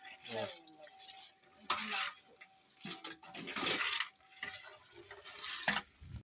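A spoon scrapes and stirs thick gravy in a pot, a series of uneven, close scraping and swishing bursts with brief pauses between strokes.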